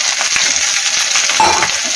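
Bitter gourd pieces dropped into a tempering of fenugreek, mustard seeds, dried red chillies and onion, crackling and sizzling loudly up close with stirring scrapes over two seconds.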